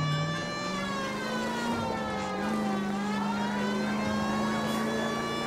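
Engine drone of a car driven in the L.A. Noire video game, a sustained tone that rises and falls slightly as it accelerates, moderately quiet with no talk over it.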